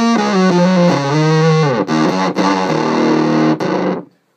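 Square-wave setting on a Microsynth guitar pedal gives a dense, super-fuzzy distorted guitar tone: a run of sustained, changing notes played loud and up close, ending in a fade to silence.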